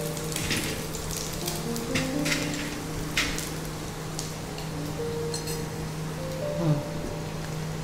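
Chopped onion fries in white oil for chicken hot and sour soup, a steady sizzle with occasional clinks of a utensil and a voice talking over it.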